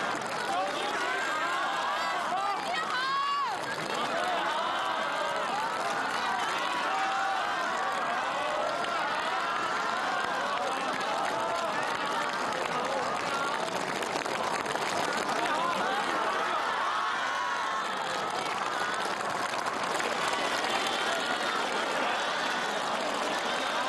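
Sustained applause and cheering fill a large hall, a dense continuous roar of many hands and voices at a steady level.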